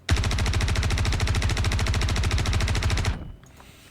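P4-AR rifle from Star Citizen in a first-person firefight, one long loud burst of rapid, evenly spaced automatic shots lasting about three seconds, then cutting off into a faint tail.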